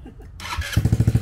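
A cold Honda Ruckus scooter fitted with a swapped-in GY6 engine cranks and catches, settling into a close, rhythmic chugging putter after a brief rustle.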